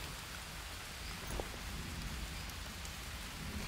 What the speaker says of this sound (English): I hope that meat cooks before the rain puts it out.